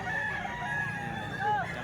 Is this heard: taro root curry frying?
no